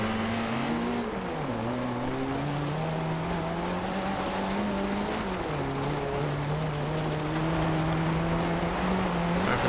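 Engine noise from a car in the racing game Forza Horizon 2 drones loud and steady, its pitch sweeping up and down with gear changes and revs, with no clear crash impact heard.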